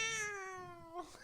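A single drawn-out cat meow from an animated Futurama episode, a time-travelling cat, falling slightly in pitch and ending in a brief rough note, fairly close over faint background sound.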